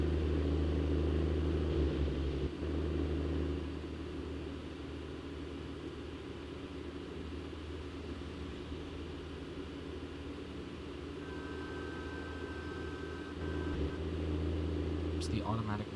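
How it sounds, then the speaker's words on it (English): Heavy truck engine in American Truck Simulator, pulling uphill in 18th gear with a steady low rumble that swells slightly near the end, with a short tonal beep partway through. "Accelerating up a hill in 18th gear, this is unheard of in this truck."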